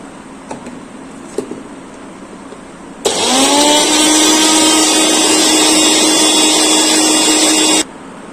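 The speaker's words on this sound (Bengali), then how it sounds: "এবার পুরোটা একেবারে বেটে নিলেই আমাদের homemade red chilli sauce ready হয়ে যাবে।" An electric blender grinds homemade red chili sauce for a restaurant-style dragon chicken recipe, starting abruptly after a few faint taps and running as one loud, steady whir for about five seconds before cutting off.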